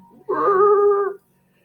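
A voice imitates screeching tires with one sustained, nasal, wavering squeal of about a second, loud and close, then silence.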